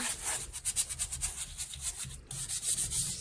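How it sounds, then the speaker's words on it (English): Rhythmic scrubbing and rubbing on the steering wheel of a 1983 C30 truck during an interior detail, a brisk run of close, steady brushing strokes with no talk. "kind of scrub the steering wheel a little bit"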